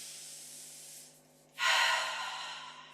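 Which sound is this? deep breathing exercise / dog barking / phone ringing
deep breathing exercise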